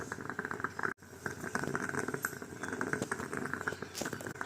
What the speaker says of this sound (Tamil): இந்த மாதிரி பபிள் சவுண்ட் வந்ததும் கேஸ் ஸ்டவ் ஆஃப் பண்ணிடலாம்.